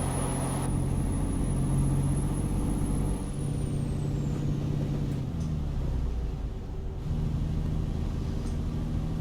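A Western Star 6900 truck with a DD16 engine in American Truck Simulator rumbles deeply and loudly, its engine tone dropping and shifting between gears, with a high whine fading early on and no voices.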